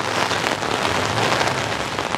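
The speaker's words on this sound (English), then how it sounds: "Wow, you see, the rain is getting strong." Heavy rain pours steadily in Amsterdam, driven by wind, a dense unbroken hiss of drops hammering surfaces, loud and close with no voices over it.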